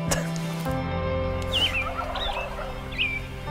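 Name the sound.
wild turkeys gobbling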